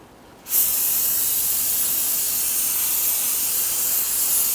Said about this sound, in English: We're going to use some solvent.